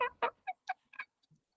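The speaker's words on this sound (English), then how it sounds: "one of my Polish hens" A young Polish hen in a backyard coop gives a quick run of about six short clucks, close and fairly soft, spaced unevenly, then a faint low note at the end and silence between.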